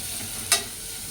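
Onions hitting a hot pan for a chicken legs curry, one sudden hissing burst of frying that swells up loud and then settles into a steady sizzle.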